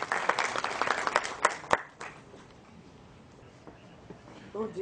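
A conference audience applauds to welcome a speaker to a session on import procedures. Brisk clapping is loud for about two seconds and then fades quickly to near silence, and a voice begins faintly at the end.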